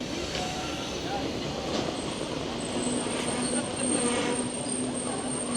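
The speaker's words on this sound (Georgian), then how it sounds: "ესეც ჩვენი მატარებელი." A train runs on rails on a wet, snowy, windy day between Norway and Sweden, a constant close rumble with a rattling, clattering texture and a faint high whine, heard from inside or alongside the carriages.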